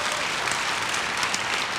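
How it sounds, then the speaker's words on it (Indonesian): A church congregation applauds at a worship service, a dense, steady wash of clapping filling the space at even loudness from start to end, with no voices standing out. "Sekali lagi beri tepuk tangan yang meriah buat Tuhan."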